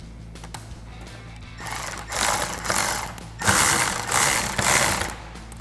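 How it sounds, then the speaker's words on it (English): Electric ratchet with a Phillips bit driving screws into a 2014–2018 RAM 1500 dash during a radio install: two sustained whirring bursts from close by, the second louder and pulsing, with no voices. "I'm going to take my electric ratchet here, my Phillips bit, and I'm going to start a couple of these and get them started."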